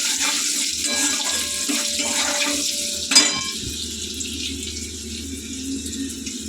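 Water pours from a tap into a cooking pan in a home kitchen, a loud steady splashing rush that ends with a sharp clunk around the midpoint, followed by a lower, calmer bubbling hiss.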